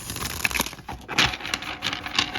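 Tarot cards are shuffled by hand at close range, with a steady run of crisp papery riffles and soft slaps and no talking.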